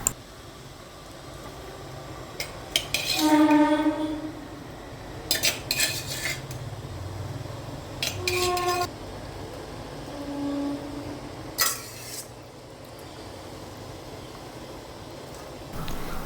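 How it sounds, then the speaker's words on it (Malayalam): Metal spoon scraping and clinking against a cooking pot as a puzhukku of cooked beans and tapioca is stirred, several short bursts of clatter separated by quieter pauses over a faint background hiss. "ഇനി ഇതൊന്ന് നന്നായിട്ട് ഇളക്കി കൊടുത്തിട്ടൊന്ന് മൂടി വെച്ച് വേവിച്ചെടുക്കാം."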